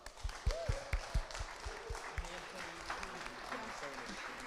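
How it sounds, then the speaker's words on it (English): Scattered applause for the sound crew at a live launch event, with a few sharp, close claps at first, then a softer, thinner spread of clapping under murmuring voices. "Can you give them a huge round of applause?"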